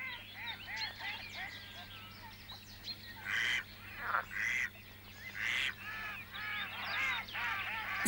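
Muscovy ducks, mallards and geese at a farm pond honk and quack in repeated bursts, some close and loud, others softer, over a low steady hum.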